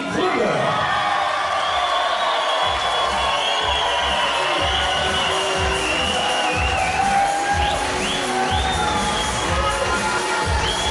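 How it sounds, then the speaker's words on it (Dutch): A darts hall crowd cheers and whoops for the match winner, a dense, continuous roar of voices and applause filling the whole stretch at steady loudness. "geef hem een keihard applaus ons"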